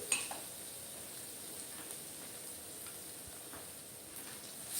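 Garlic paste and asafoetida sizzle in hot oil with popped mustard seeds, giving a steady faint hiss while a spoon stirs and taps lightly against the pan.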